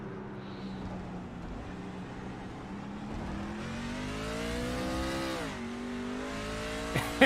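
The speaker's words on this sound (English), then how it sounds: "You can hear it. That tire spin because those RPMs just go up, but that truck does not move." Racing truck engine in the iRacing game revs hard with RPMs climbing in sweeping harmonic rises while the tires spin in place, a steady loud drone that surges and dips near the end, with no talking.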